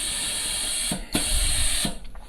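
Spray gun applying colorshift powder coat to RC electric board steps, a steady high hiss that cuts off briefly twice before resuming, close and continuous.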